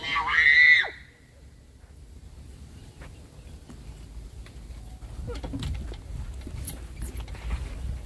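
A child lets out a loud, high scream on a swing at the Legon Botanical Gardens playground in Ghana, lasting about a second, followed by quieter outdoor ambience with wind noise, faint birds and some distant voices.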